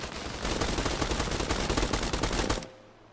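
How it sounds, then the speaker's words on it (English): Rapid automatic gunfire in the Arma Reforger video game, a dense sustained burst of loud overlapping shots lasting over two seconds before cutting off abruptly to quiet. "I could have swore I heard gunshots this way"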